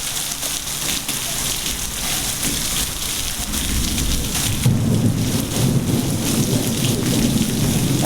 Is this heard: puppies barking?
no